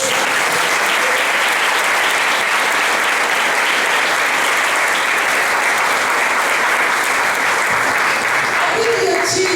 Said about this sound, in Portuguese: Dá um aplauso,